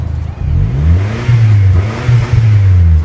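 A modified Wuling Almaz with a CVT gearbox revs its engine up and down close by, a steady throaty drone rising and falling in pitch for about three seconds with no talking.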